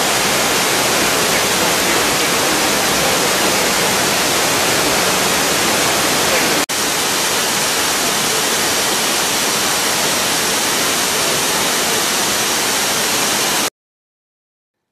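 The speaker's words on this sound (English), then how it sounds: "And now on to the waterfall." A waterfall in China or Tibet gives a loud, steady, unbroken roar of falling water, close and filling the whole scene with no other sounds.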